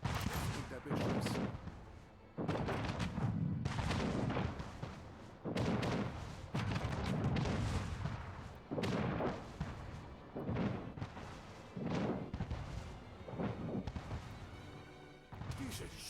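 Ship artillery fire in Anno 1800: repeated heavy booming salvos land every second or so with thudding impacts and crashes, while a voice talks over the cannonade.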